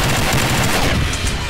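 Rapid gunfire in the online shooter Combat Arms Reloaded, a dense continuous burst of automatic shots filling the whole moment, loud and close with no pauses.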